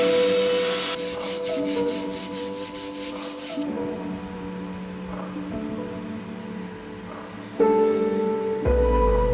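Oak pieces being rounded over, a steady abrasive rubbing and sanding drone with a tonal machine hum and a sharp change near the end, loud and close without talk.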